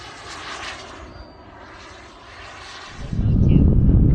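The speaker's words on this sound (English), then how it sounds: "Here it is with my turbine, even with the jet." Model jet turbine aircraft flying past during a radio-control aerobatics session, a steady roaring whine that swells sharply louder and nearer toward the end.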